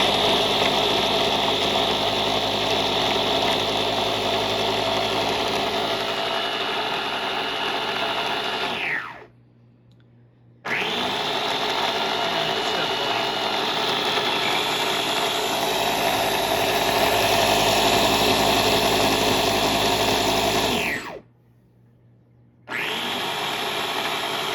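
Quark Quook blender running on its auto blend setting, a loud sustained whirring drone that cuts out twice briefly before spinning back up.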